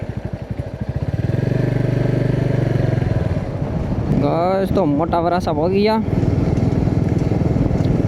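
A motorcycle rides along a smooth village road, its engine a steady, loud, close drone with rushing wind noise, and someone talks over it partway through.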